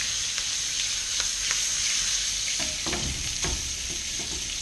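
Beef steak frying in a hot pan, a loud, steady close-up sizzle with crackling pops and some stirring or scraping, and no voices.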